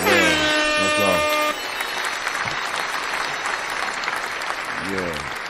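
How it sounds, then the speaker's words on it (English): A round of applause mixed with a blaring air horn that sounds in repeated blasts at the start and again near the end, crowd clapping and cheering continuing steadily underneath with voices talking. "Let's give a round of applause, man."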